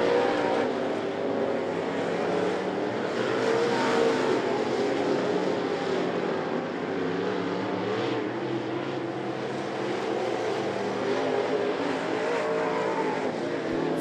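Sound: race cars lapping at a raceway

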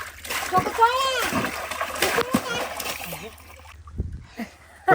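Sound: water poured over child's head in bath

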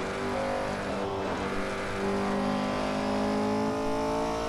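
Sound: 1968 Porsche 908 LH race car engine at Nürburgring

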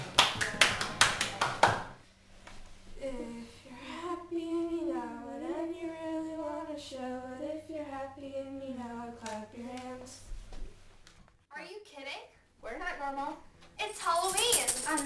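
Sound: children clapping hands to a song

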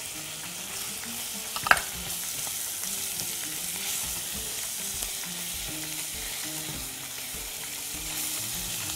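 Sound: chicken hearts and liver frying with onion in a pan

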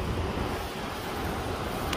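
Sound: ocean waves

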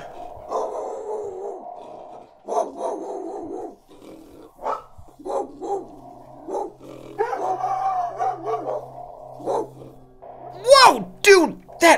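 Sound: dogs barking in Power Rangers mod video game

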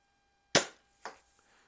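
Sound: Daisy 188 air pistol shooting pellets

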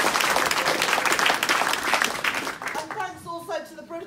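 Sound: audience applause

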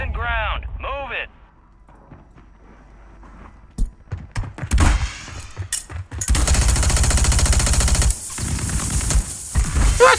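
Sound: SVA 545 rifle gunfire in Call of Duty Warzone video game

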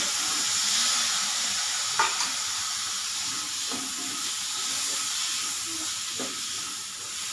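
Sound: masala sautéing in oil in a pan

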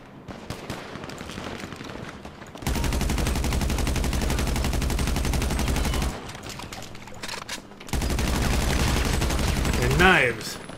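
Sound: shotgun gunfire in video game GTA 5 Online

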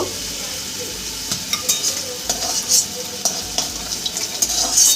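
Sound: chapila fish frying in a pan

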